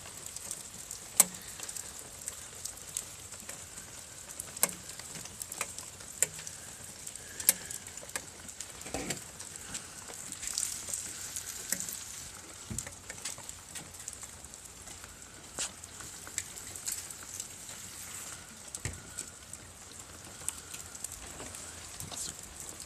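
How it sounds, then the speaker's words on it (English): Meltwater and ice dripping from trees during a thaw, a faint, scattered patter like light rain with occasional sharper drops landing nearby, steady throughout with no voices. "It's not rain. It's all the ice melting out of the trees."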